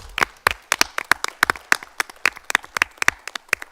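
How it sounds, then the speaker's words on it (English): Audience clapping at a school board meeting, a short burst of sharp, fairly sparse claps from a modest crowd, close and alone without talk. "Big round of applause"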